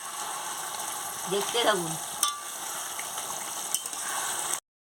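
Mutton curry sizzles and hisses in a pan as the lid comes off and it is sautéed and stirred. The frying runs steadily throughout, with scraping stir strokes, while a person speaks briefly over it.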